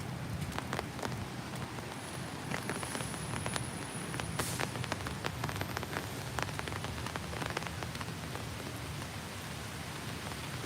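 Steady rain falls on trees at Disney's Saratoga Springs Resort, a dense, even hiss with scattered louder drips and patters continuing throughout without pause.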